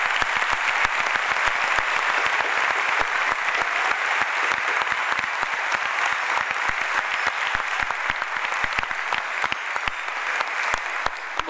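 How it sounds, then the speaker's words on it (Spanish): A concert audience at the Auditorio Juan Victoria in San Juan, Argentina applauds during a tango performance, with sustained, loud, even clapping from a full hall throughout. "Un aplauso para él."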